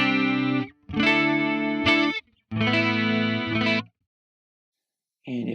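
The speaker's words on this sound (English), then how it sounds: "So here's the kind of dry path. It's still going through a chorus, but it doesn't have the delay and reverb on it." Guitar chords played through a chorus effect on a Quad Cortex, shimmering and dry without delay or reverb, in a few separate strums with pauses between them.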